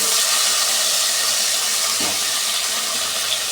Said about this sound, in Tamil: கத்திரிக்காய் முருங்கைக்காய் எல்லாம் போட்டாச்சு. இப்போ நல்லா வதக்கிட்டு